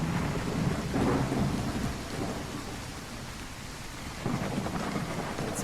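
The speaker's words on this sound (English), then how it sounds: "It's raining cats and dogs here." Heavy rain and rolling thunder in a horror adventure video game, a dense steady downpour with low rumbling thunder swelling near the start and again at the end.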